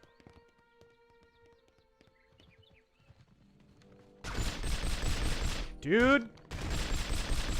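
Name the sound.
Smith & Wesson pistol gunshots in 007 From Russia With Love video game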